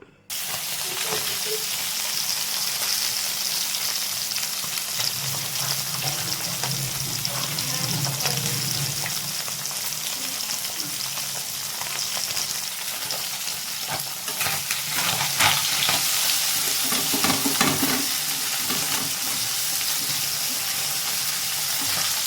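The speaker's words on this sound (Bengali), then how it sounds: "মাছটাতে হলুদ আর নুন দিয়ে দিলাম এখন মাছটা আগে ভাজবো" Fish coated in turmeric and salt frying in hot oil in a wok: a loud, continuous sizzle and crackle that holds throughout, with occasional stirring and spattering bursts.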